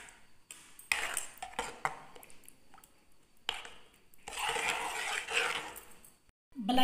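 A spoon stirs milk cream into custard in a bowl, producing soft wet squishing and scraping in bursts, with occasional light clinks against the bowl.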